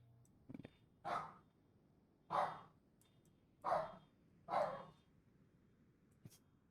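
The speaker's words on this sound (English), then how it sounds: "I feel like there's actually a dog here" A dog barks four times at a moderate distance, evenly spaced barks with a faint tap at the end, over a quiet room background during an online meetup.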